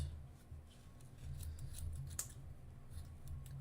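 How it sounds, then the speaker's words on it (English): Scissors snip through yarn while making pom-poms, a few soft crisp cuts heard faintly over a low background rumble. "Take the scissors."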